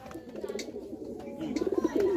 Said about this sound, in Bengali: একটি দেশি পায়রা।